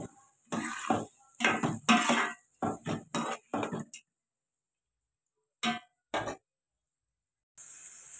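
Ingredients for chicken curry being stirred and fried in a pan, heard as a series of short loud scraping and clattering bursts of utensil against metal, then a pause, two more strokes, and a faint sizzle at the end.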